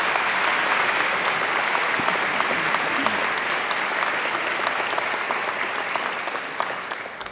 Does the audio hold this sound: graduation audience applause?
yes